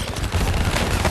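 Rapid gunfire aimed at a turret in the Call of Duty Black Ops 3 video game, a loud, dense burst of continuous shots through the whole moment.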